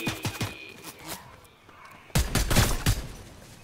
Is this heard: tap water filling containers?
no